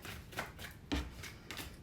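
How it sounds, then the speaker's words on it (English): A few short, soft riffles of tarot cards at close range, spaced about every half second, with a thump in the middle. "why can't I shuffle your cards"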